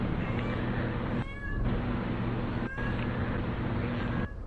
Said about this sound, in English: you probably hear my cat